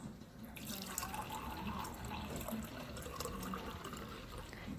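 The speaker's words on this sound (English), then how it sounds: "first of all, I add purified water" Purified water pours steadily into a container for germinating pepper seeds. The trickle is faint and continuous for about five seconds, with no talking.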